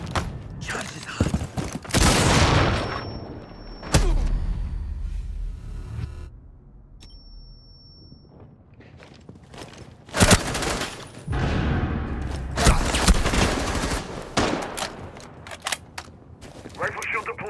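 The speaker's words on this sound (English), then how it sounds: "Cluster charge deployed. Cluster charge live." Cluster charge detonations in a video game, bursts of rapid sharp blasts separated by quieter stretches, with mechanical clicks and a voice speaking between them.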